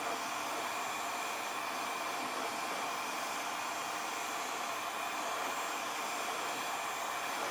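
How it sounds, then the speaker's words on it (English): A heat tool warms the paint on a 1994 Jaguar XJS V12 with a constant, even blowing hiss that stays steady throughout at moderate loudness. "What I do is basically warm an area up and then just scrape that top layer off."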